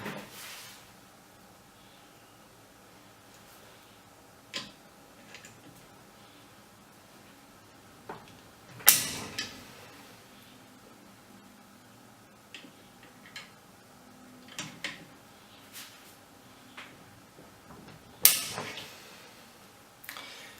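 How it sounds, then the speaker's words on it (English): A torque wrench tightens scope mount screws on a Tikka T3 .223 Rem rifle, with faint scattered ticks and a few sharper clicks, including two loud snaps, spread over a quiet background. "We've set our torque range to 65 inch-pounds, and we are going to torque these guys down."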